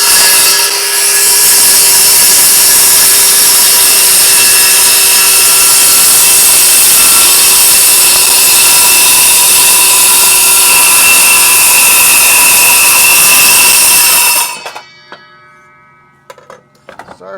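A power saw cutting through a wooden board: a loud, continuous high-pitched whining rip runs steadily for about fourteen seconds, then cuts off abruptly as the blade winds down into faint clicks and rattles.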